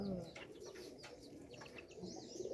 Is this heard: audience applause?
no